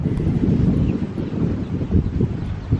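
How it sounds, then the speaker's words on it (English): Outdoor wind buffets the microphone during a dance fitness class, a loud, rumbling low roar that gusts and swells unevenly, with no voices over it. "It's a windy day."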